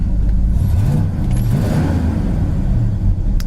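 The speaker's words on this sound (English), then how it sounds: "It's been sitting here idling for quite a while." A 1968 Pontiac GTO engine idling after running for about ten minutes, a loud, close, steady low rumble with a slight lumpy pulse and small wavers in pitch, heard alone without voices.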